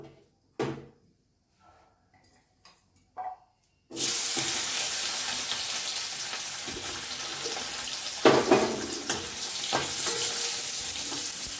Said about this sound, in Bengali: মাছের ডিমটাকে একটুখানি ভেজে নেব, টুকরো টুকরো করে ভেজে নেব